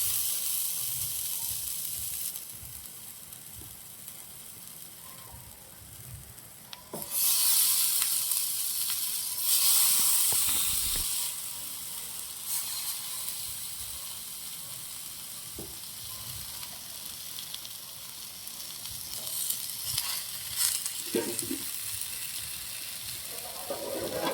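Large slices of elephant foot yam hitting a hot tawa and frying, a steady close sizzle with louder bursts of hissing as pieces are added, plus occasional clinks and shuffles, with no talking.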